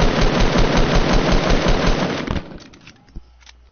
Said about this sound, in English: I'm wasting all my bullets.